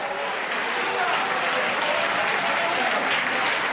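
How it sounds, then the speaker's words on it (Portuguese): A church congregation bursts into sustained applause, a dense, steady roar of many hands clapping that stays loud and even throughout, with voices mixed faintly into the crowd noise. "aplauda-o se quiser"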